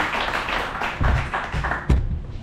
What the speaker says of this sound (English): a round of applause for Austin